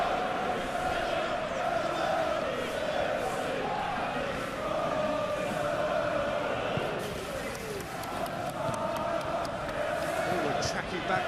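Football crowd in PES 2021, a continuous roar of spectators swelling and settling in the stadium background, with a commentator's voice over it.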